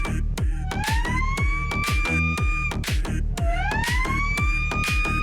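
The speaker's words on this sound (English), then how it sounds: "The sound of the siren sends chills up my spine." A siren wails loudly in two rising-and-falling sweeps over a dense, rhythmic pounding background, continuous and close.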